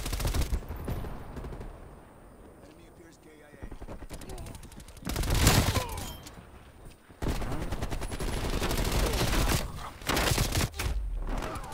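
Turret gunfire in Call of Duty, bursts of rapid automatic shots and heavy booms that come and go in loud clusters with brief gaps, mixed with other battle noise and occasional talk.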